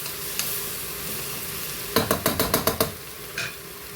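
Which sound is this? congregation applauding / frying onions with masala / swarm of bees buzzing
frying onions with masala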